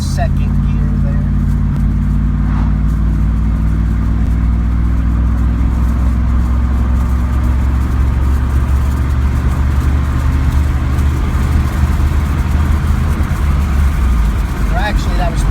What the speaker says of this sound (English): Let's do a little pull here and see how it does.